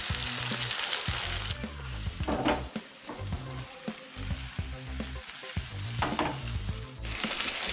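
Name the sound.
fish frying in an old non-stick pan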